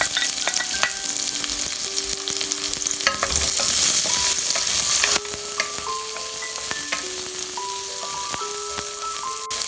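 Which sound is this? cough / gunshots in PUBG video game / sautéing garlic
sautéing garlic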